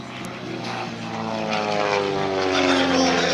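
A Long-EZ propeller airplane dives in at the Abbotsford airshow, its engine and propeller drone loud and tonal, swelling steadily as it approaches.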